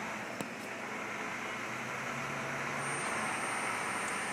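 A Southwestern Industries CNC vertical mill with a Windows-based control jogs along its X axis, giving a steady broadband machine hum with a faint sustained servo whine underneath, with no voices.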